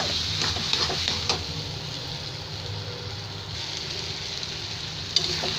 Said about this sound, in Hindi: ये देखिए दोस्तों, इसको लगातार चलाते हुए भूनेंगे, नहीं तो ये नीचे इस तरह से लग जाएगा, फिर जल जाएगा।